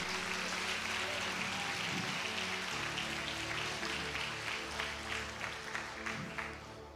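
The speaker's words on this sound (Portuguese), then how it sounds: "Pode aplaudir a Ele" Congregation applauding for Jesus during a church service, a dense, steady wash of clapping from a large crowd with a low musical backing underneath, fading slightly toward the end.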